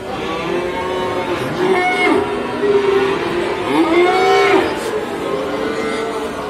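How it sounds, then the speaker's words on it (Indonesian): Simmental and Simmental-Limousin cross calves at a livestock market, several loud drawn-out moos rising and falling close by over a steady crowd and market murmur. "dengan jenis sapi simental, dan juga ada sapi cross simental limousin"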